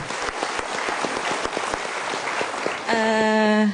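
A studio audience at a televised motivational talk show bursts into lively applause, a dense run of clapping close by that ends as a tonal chime or musical sting cuts in.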